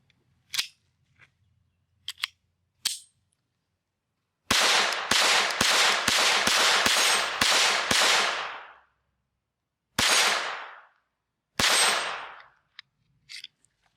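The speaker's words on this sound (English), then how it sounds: "let's shoot one more mag through it" Several .22lr shots from an FN 502 Tactical pistol: a few sharp isolated cracks, then a fast string of about eight loud reports, followed by two more spaced shots and a couple of faint clicks, with no talking.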